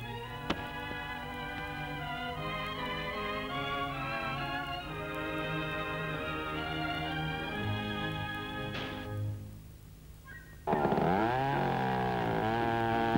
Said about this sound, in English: Larger timber and dry logs may be removed with a chainsaw.